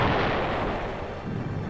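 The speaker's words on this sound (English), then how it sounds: "Suddenly, the night was rent by a tremendous explosion." A deep, booming torpedo blast as the Hunley's charge strikes the Housatonic, a heavy low rumble that fills the moment and rolls on without a break, loud and close.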